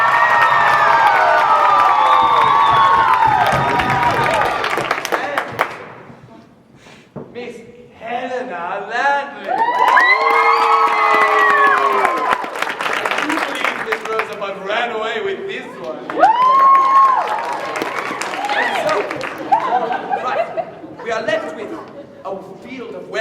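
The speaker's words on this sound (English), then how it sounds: "let us show a vote by applause" An audience at a stage performance of The Mystery of Edwin Drood cheers, whoops and applauds loudly as a vote, in rising and falling waves of crowd noise with shouting voices.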